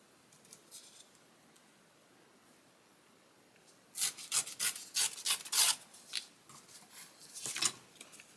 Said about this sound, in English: I want to tear that a little further in